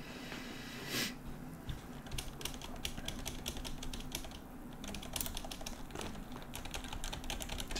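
Fingers type on a computer keyboard, a steady patter of quick clicky keystrokes with brief pauses, close and moderately loud over a faint background hum, no talking.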